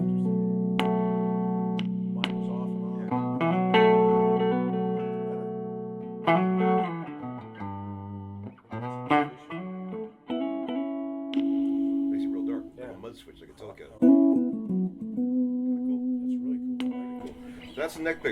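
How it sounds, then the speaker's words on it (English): Clean electric guitar chords on the neck pickup, played through a Fender Vibrolux Reverb amp, ring out with warm, mellow tone and some amp reverb, in sustained strums and short phrases. "This is the neck pickup through a Fender Vibrolux reverb."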